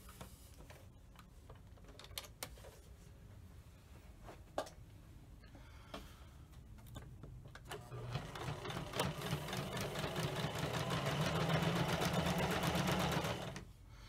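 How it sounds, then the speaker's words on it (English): A sewing machine stitching fabric for gaiters starts up and runs in a steady, rapid stitching whir that builds and holds for several seconds, preceded by faint clicks and handling. "we'll be able to put this through the sewing machine"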